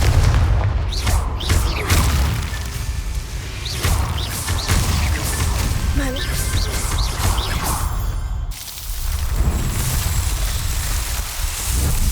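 Deep booming blasts and crashing debris from a Confringo fire spell in Hogwarts Legacy, repeated explosive impacts over steady rumble, loud and close with no talk.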